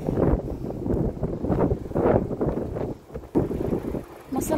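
Strong, cold wind blowing outdoors, buffeting the microphone with a continuous low rumble that surges in gusts and stays loud and close throughout.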